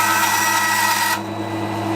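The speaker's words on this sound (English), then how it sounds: "you can see how quickly it cuts through that G10." Bandsaw cutting through scrap G10 with a dust extractor running: a loud steady whirring drone with a harsh cutting rasp that drops away partway through, leaving the machine humming on its own.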